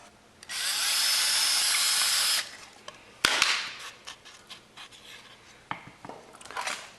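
Power drill driving bolts through lightweight plastic fenders on a boat trailer: a steady high whine for about two seconds, then a sharp knock and scattered metallic clatter and handling noises up close.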